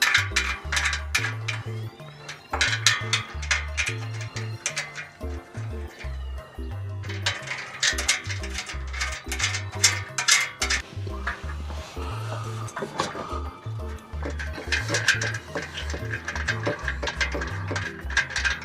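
A ratchet wrench tightens the bolts on a sidestep bracket of a Chevy Colorado ZR2, with repeated close bursts of rapid clicking and brief pauses between strokes.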